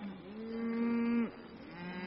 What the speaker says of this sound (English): Putting his brand on the calves is a proud moment for Yeru